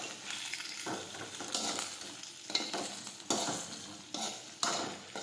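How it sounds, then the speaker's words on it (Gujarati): Okra sautés in hot oil with mustard seeds and cumin, giving a soft, steady sizzle broken by several sharp scraping stirs of a spatula against the pan, close by and without speech. "હવે આપણે ભીંડો નાખી દઈશું। હવે આપણે સાતળી લઈશું।"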